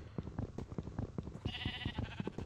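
Sheep bleating in the video game Minecraft: a short run of close, wavering bleats, loud and clear with no voices over them.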